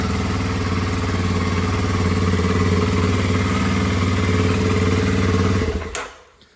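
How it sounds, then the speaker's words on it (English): Kawasaki KLX230 motorcycle engine running at a steady, loud, close idle with an even low thrum and faint mechanical clatter for several seconds, then shutting off and dying away. "So right now we're gonna start the bike up"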